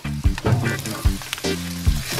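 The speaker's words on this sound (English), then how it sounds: "carrots are nice and brown so they can go into the pot." Browned carrots tipped into a hot stew pot for possum stew, giving a series of short, close sizzling bursts with stirring clatter between them and no talking.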